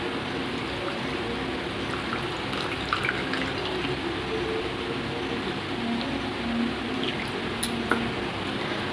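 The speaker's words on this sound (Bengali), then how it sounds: "তো অল্প একটু জল দেব।" Water trickles and splashes steadily while a mango drink is being made, a continuous soft pouring wash with a few faint clinks, and no one speaks.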